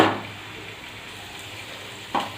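Paneer pieces frying in a lightly oiled pan, a steady soft sizzle running throughout with a brief louder scrape or clink near the end.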